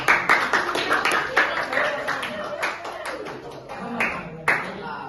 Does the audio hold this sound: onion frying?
no